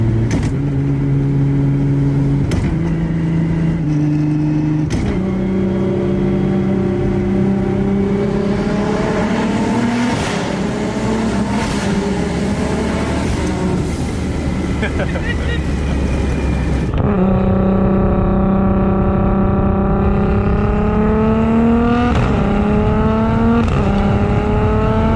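An 1100 hp Nissan R32 GTR with a PPG sequential gearbox accelerates hard through a tunnel, engine rising in pitch between quick clutchless upshifts, loud and echoing, with a brief pause before another long pull.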